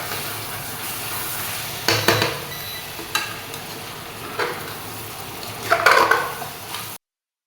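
Coriander chicken bhuna fries in a kadai, giving off a continuous close sizzle. Several sharp scrapes and clatters of a spoon against the pan break in at intervals, and no one speaks.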